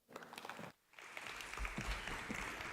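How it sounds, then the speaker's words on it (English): Round of applause from attendees at a 2024 property conference, clapping in a room that briefly dips then resumes steadily and fuller, moderately loud and unaccompanied by speech. "Please give him a round of applause."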